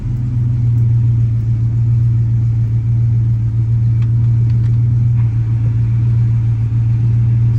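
A Ford OBS truck fitted with a swapped-in ZF5 manual transmission drives along with a steady, deep engine drone and low rumble, held at an even level from inside the cab, with no speech over it.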